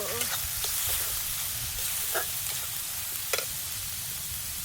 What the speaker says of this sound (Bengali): লাল লঙ্কার গুঁড়ো। ব্যাস হয়ে গেল। একটু কষিয়ে নেব।